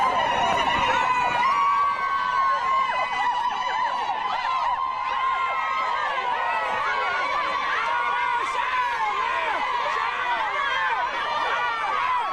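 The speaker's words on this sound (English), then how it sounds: "They will be ululating here." A large crowd in Ulundi, gathered under police control for the homecoming of Buthelezi's body, ululates in dense, wavering high trills that overlap continuously and loudly throughout, mixed with crowd chatter.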